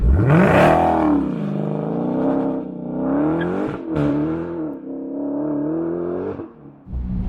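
A 2020 Dodge Challenger Hellcat Redeye Widebody revs loudly and close, its deep engine tone climbing sharply, then holding and wavering through several sustained high-rpm surges before dropping off at the end.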